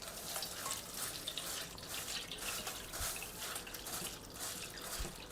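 Water runs and splashes steadily over puffed rice in a bowl to soak it, a continuous close trickle with a few soft drips.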